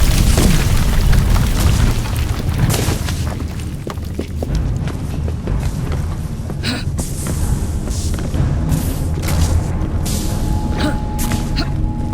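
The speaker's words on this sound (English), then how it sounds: "What was that explosion?" A deep, rumbling explosion in the Assassin's Creed Syndicate video game, with heavy booming low end and scattered crackling bursts rolling on loudly throughout.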